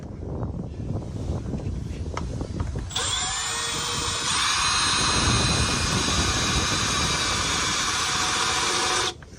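A power drill spins up with a loud, high whine and drills steadily for several seconds before cutting off abruptly.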